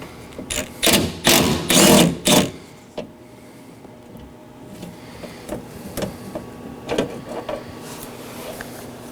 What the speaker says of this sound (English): Now I'm going to undo the two fasteners holding the window onto the assembly.